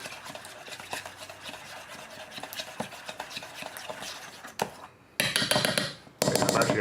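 A spoon scrapes and clinks steadily in a bowl while rice vinegar and green oil are stirred together, giving close, rhythmic rubbing taps that turn into louder, brighter clatter near the end.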